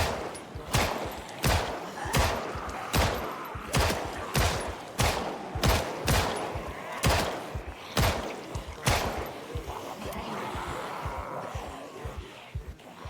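Rapid gunfire from the zombie-survival game Project Zomboid, a steady volley of loud, sharp shots roughly every half second for about nine seconds, then trailing off into a thinner rumble of ambient noise.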